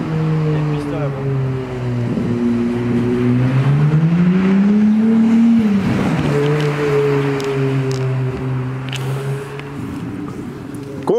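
Ferrari V6 engine at a large Ferrari gathering in Knokke, a loud close steady drone that rises and falls in pitch as the car revs and moves, with people talking nearby.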